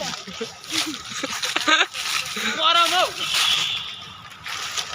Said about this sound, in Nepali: यहाँ त्यो पानी निक्लिने पम्पसेट जस्तै त्यसलाई के भन्छ हौ?